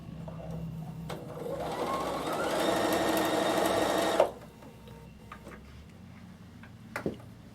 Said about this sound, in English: when I sew the next row of stitching, I'll move it 1 click to the left